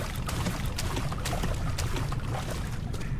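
Steady sloshing and churning of water while wading through a flooded area in Amnesia: The Dark Descent, a continuous close splashing wash with no talk.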